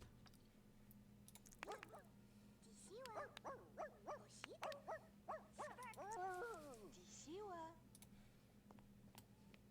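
A dog in The Sims 2 game barks and whimpers in a run of short yelping, rising and falling calls over a faint steady hum, with scattered clicks.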